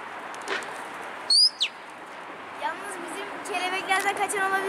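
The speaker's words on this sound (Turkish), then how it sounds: "Ben susayım, kuşlar konuşsun." Pigeons in a large rooftop flock give scattered chirps and calls, with a brief loud flutter of wings near the start and busier overlapping calls building toward the end, all fairly faint.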